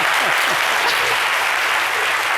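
An audience breaks into steady, dense applause in a French daytime talk-show studio, a continuous wash of clapping filling the short stretch at full level with no break.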